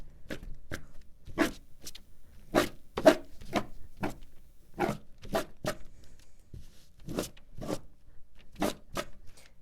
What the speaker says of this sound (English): So you do need a sharp pair of scissors to cut.